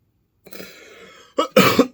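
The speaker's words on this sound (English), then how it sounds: "Are you wondering why I'm coughing a lot?" A person with an allergy attack clears their throat and then coughs a few times, close and loud, the harsh bursts following one another quickly.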